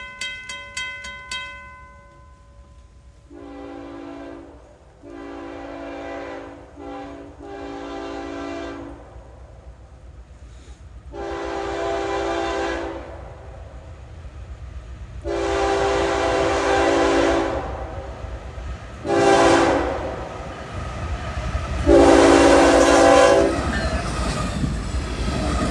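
A Florida East Coast Railway train passes north of Bunnell, Florida, on a rainy day. It opens with a loud multi-tone horn blast, then rolling cars rumble and clatter in repeated loud surges as the train goes by.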